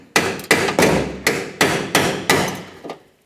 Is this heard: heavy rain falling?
no